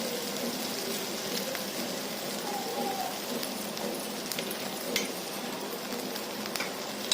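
Ground spice paste sizzling in hot oil with fried green chillies for a Maharashtrian mirchi fry, a steady close crackle with light stirring scrapes throughout, no talk.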